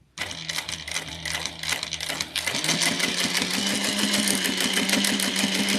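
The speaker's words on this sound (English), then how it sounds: "And then we're just back stitching." A sewing machine back stitches a clutch wallet, running with a rapid, even mechanical chatter. It pauses briefly near the middle, then resumes at a steadier, slightly higher pitch, close and loud.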